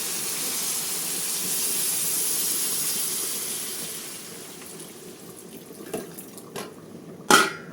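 A loud, steady hiss of steam as water is added to meat cooking in a hot pan, gradually dying down, followed by a few sharp clatters near the end.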